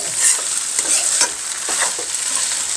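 Rice frying in a pan is stirred, with a loud continuous sizzle and repeated scraping strokes of the utensil close by.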